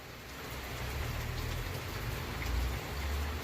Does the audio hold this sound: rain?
yes